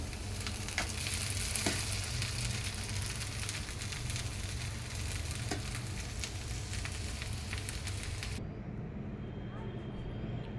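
Kheer flavored with saffron and cardamom syrup bubbling in a pot as a prasad offering, a dense continuous boiling hiss that cuts out sharply near the end, leaving quiet.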